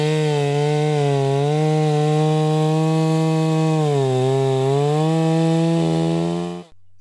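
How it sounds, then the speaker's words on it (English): A petrol chainsaw runs at a loud, steady pitch, dipping briefly as it bites into wood, then cuts off abruptly at the end. "Sawing is very fast and easy with this chainsaw compared to manual saws."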